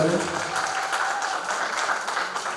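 Audience applause at a singing competition grand finale, a steady, dense clapping that fills the whole stretch, with some voices mixed in.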